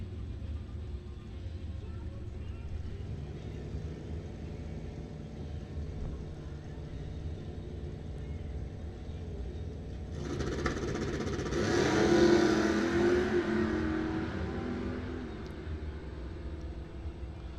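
Drag racing at a dragway, a Cavalier and a 5-liter Mustang: a low steady engine rumble from a distance swells into a louder roaring pass midway, then settles back to a distant drone.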